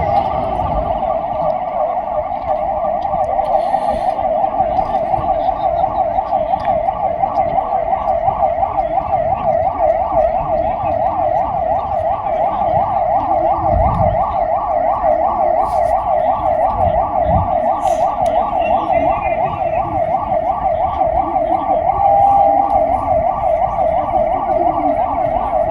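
An ambulance siren wails continuously in a rapid up-and-down yelp during a police drill, loud and close throughout, with faint background voices underneath.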